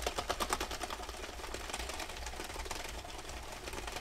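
A Sentro 22 knitting machine runs with no yarn tension, giving a quick, even mechanical clatter of gears and needles that stays steady and fairly close throughout, with no talking.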